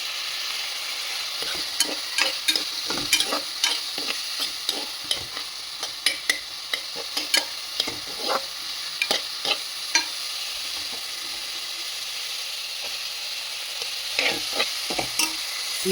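Chopped onions fry in oil in a pan, a continuous close sizzle with repeated sharp clicks and scrapes as they are stirred, alone and fairly steady for a long stretch.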